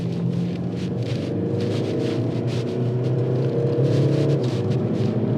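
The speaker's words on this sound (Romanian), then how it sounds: "Hai să o trecem pe sport și să mergem cu mașina pe curbe" A Mercedes-Benz C 220 d diesel with rear-wheel drive, 440 Nm and standard suspension, driven through curves in sport mode, a steady engine drone and road rumble from inside the cabin, its pitch rising slightly as it pulls.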